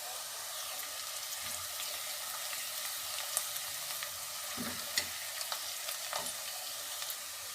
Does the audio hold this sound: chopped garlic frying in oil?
yes